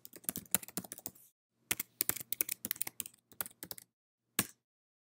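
Password being typed on a computer keyboard: bursts of quick, crisp, close key clicks in uneven runs separated by short pauses, ending with one isolated keystroke, with no talking.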